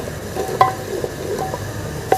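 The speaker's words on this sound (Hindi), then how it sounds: "इसको तब तक भूनना जब तक इसका कलर गुलाबी ना हो जाए।" Onion paste fries in ghee in a pan while a spoon stirs it, giving a steady low sizzle with a few sharp scrapes and clinks. No one speaks.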